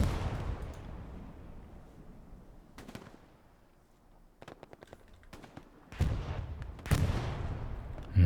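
Distant artillery fire and bombing in a Hell Let Loose competitive match: a low rumbling barrage with scattered sharp booms and crackling bursts that grows heavier and louder toward the end.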